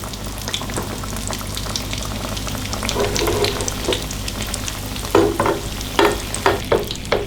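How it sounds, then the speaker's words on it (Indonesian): Dough fries in a small pan of hot oil over low heat, martabak telur style, with a continuous sizzle and bright bursts of crackling as oil is spooned over the top, loud and close. "Ini gorengnya ala martabak, martabak telur."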